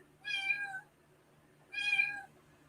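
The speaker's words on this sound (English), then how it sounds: "I'm going to go get this cat" A cat meows twice, each call clear, high and drawn out and separated by a short pause, over a faint low hum in a quiet room.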